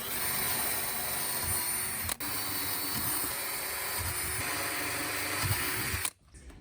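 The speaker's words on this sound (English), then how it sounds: "we're ready to go drill some holes." A power drill boring holes gives a steady, loud mechanical whine that runs almost continuously, with a brief dip partway, then cuts off abruptly near the end.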